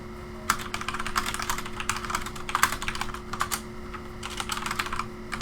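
Rapid typing on a computer keyboard, clattering keystrokes in irregular bursts over a steady electrical hum, close and moderately loud with no voices.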